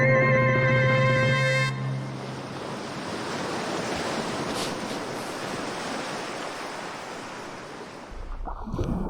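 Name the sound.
ocean waves at the beach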